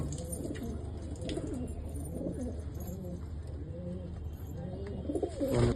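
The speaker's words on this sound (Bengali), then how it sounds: "এটা একটা চোখের পায়রা আছে, খুবই ভালো কোয়ালিটি, একটা নর পায়রা" Pigeons in a home loft, including a golden-eyed male, coo in low, rolling, overlapping calls at close range over a constant background hum, with faint chirps now and then.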